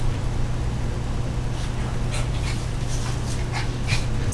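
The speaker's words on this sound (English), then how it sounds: "Sorry if you can hear my dog." A dog pants rapidly and steadily nearby indoors, a continuous rhythmic huffing with a faint whimper near the end, no talking over it.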